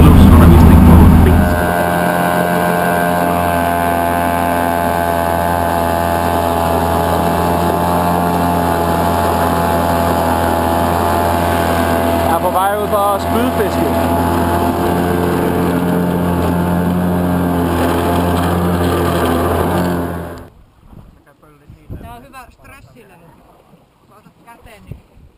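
A boat motor drones loud and steady during a boat convoy on the water, its constant hum running with wind buffeting before cutting out abruptly near the end, leaving faint, quiet sounds.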